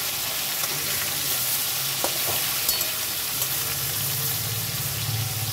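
Bhetki fish fries in a pan with a steady, loud sizzle, with faint scrapes and clicks of stirring throughout.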